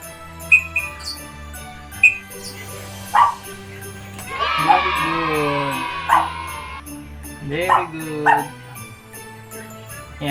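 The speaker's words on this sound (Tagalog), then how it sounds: "Narinig niyo ba yung tahol?" A dog gives a series of short, high yips and barks at irregular intervals, close by, with some whining in between.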